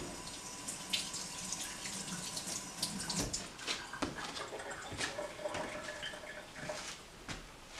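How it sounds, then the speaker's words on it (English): Hands being washed under a running kitchen tap, steady water flow with splashing and small knocks, close and continuous with no talk. "Let me wash my hands"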